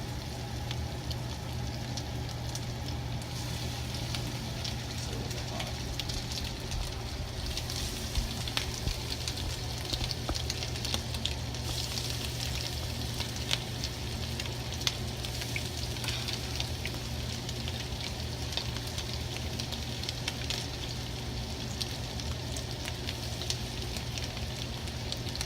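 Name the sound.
breaded grouse pieces sizzling while frying in a hot pan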